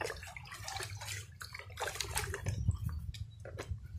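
Coconut-water liquid organic fertilizer is mixed into about 15 liters of water, with close splashing and sloshing that comes in irregular bursts as the liquid is stirred.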